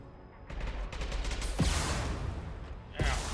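Gunfire and concussive shots in the Mass Effect Legendary Edition video game: a dense run of rapid shots opens the clip, then two sharp concussive blasts land about a second and a half apart, loud and close.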